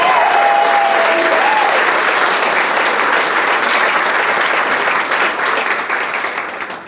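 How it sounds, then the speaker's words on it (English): A loud round of applause from gala attendees for donors, thick steady clapping that stays strong before tapering off at the end. "Give yourselves a big round of applause"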